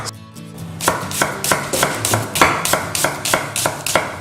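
Onions chopped with a knife on a board for French onion soup, a steady run of about a dozen crisp, close, evenly paced cuts with no talking.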